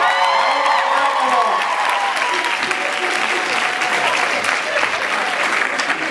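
Sustained, dense applause from a Comic-Con panel audience in San Diego, loud and continuous, with scattered whistles and cheers rising over the clapping throughout.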